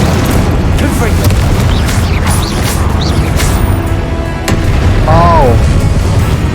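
Confringo fire spells exploding in Hogwarts Legacy: loud, continuous booming blasts and rumbling bursts fill the scene, with brief tonal magical swooshes layered over dense battle noise.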